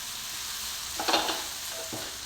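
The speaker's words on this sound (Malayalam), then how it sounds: "ഇതൊന്ന് തവി വെച്ചിട്ട് കുടച്ച് കൊടുക്കാം" A ladle scrapes and stirs softened tomato masala in a hot pan, two brief clattering strokes over a steady sizzle with no talking.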